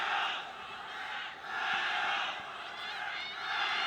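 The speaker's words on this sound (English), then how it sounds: "Crowd becoming very animated as they sense the Chinese performance is one that could give them success here later on." A stadium crowd at a women's rugby sevens cup final between Japan and China gives off a broad, steady roar that swells and dips over a few seconds.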